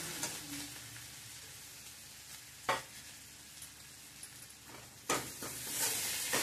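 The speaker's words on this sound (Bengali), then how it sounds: "এখন এটা আমরা ভালো করে নাড়বো।" Ginger, whole cumin, tomato paste and chilli powder are stirred in a frying pan, giving a quiet hiss with a few clear spoon scrapes against the pan and a louder sizzle building toward the end.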